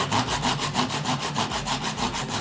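A hand flush-cut saw trims a wooden plug level with the surface, giving a steady run of rapid back-and-forth rasping strokes, close and continuous, with no voices.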